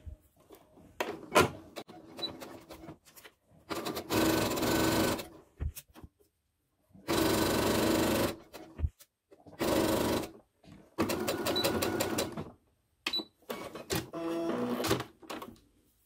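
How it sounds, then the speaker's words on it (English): A sewing machine stitches a French seam at just under a quarter-inch allowance, running in several steady buzzing bursts of a second or two each, separated by pauses with small clicks and handling noises. "For the first stitch, I'll be sewing at a little less than a quarter inch seam allowance."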